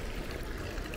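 Water runs steadily from a drinking fountain in Vatican City, a faint continuous splashing trickle with no voices.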